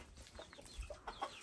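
A white hen on a farm gives a few soft, short clucks, quiet and fairly close, scattered over a low background.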